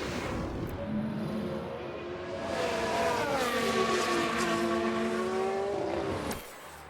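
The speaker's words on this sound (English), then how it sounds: "We've just had a crash on the track." Race car engines whine with rising and falling pitch during a crash in F1 Manager 22, with tyres screeching across the mix before the sound cuts off abruptly near the end.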